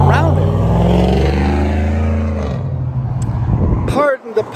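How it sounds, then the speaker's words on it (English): A pickup truck with a loud exhaust roars past close by on a road, its engine note rising and then sweeping away over a few seconds, followed by quieter traffic noise. "Pickup truck with loud exhaust went by him, standing still next to Terry Road"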